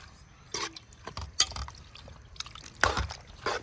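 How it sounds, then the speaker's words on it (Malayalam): Chicken pieces being stirred with turmeric powder and salt in a pan, giving irregular wet, sticky scraping and squelching taps, close and moderately loud, with no talking. "പിന്നെ നല്ലപോലെ നമുക്ക് ഇളക്കി കൊടുക്കാം."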